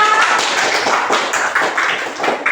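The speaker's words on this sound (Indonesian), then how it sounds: "Beri tepuk tangan untuk Gloria." A classroom of pupils claps together in a short burst of dense, close applause with no talking over it.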